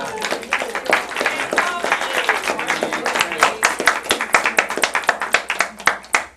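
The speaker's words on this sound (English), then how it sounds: "I'm so glad to hear that round of applause for Robbie" Audience applause for Robbie, the board chairman, at a community organization gathering: dense, steady hand clapping from a crowd, close and fairly loud, sustained throughout with individual sharp claps standing out near the end.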